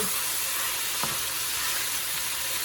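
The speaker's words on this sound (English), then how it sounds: "So I'm just gonna get it a little brown at the bottom" Meat for Tex-Mex chili browning in a pot on the stove, a dense continuous sizzle with a faint scrape or stir partway through.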